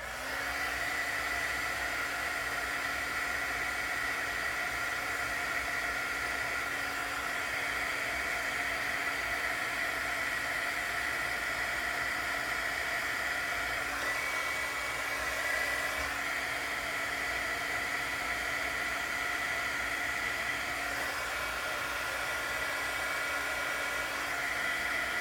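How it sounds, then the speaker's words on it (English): A crafting heat tool blows hot air over embossing powder on an envelope, producing a constant loud whirring hiss that runs steadily without pause. "So I'm going to go hit that with my heat tool."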